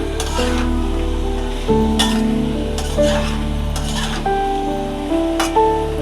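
Greens with small shrimp being stirred and sautéed in a pan, with a steady sizzle and intermittent scraping stir strokes, close up, over soft background music tones, no talking.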